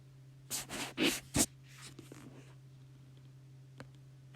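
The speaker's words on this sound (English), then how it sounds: "I need to write a sentence" Pen or pencil scratching on paper as a sentence is written by hand, in a few quick close strokes followed by lighter faint scribbles and a soft tap, with no speech.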